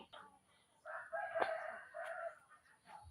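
A rooster crows once, a drawn-out call with a couple of rising and falling phrases, moderately near against a quiet background.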